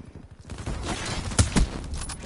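Sharp gunfire bursts from an online shooter video game, a couple of loud cracks around the middle over a busy game mix, with a low voice murmuring briefly at the start.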